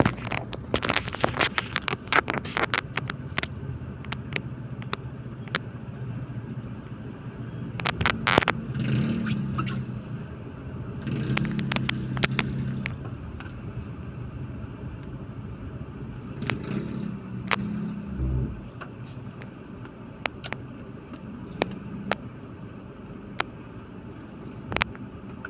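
Vehicles move along a street in the Green Meadows subdivision, engine hum and passing cars heard close by amid crackling wind buffeting.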